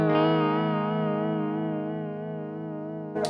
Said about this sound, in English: It's a very intense pitch vibrato.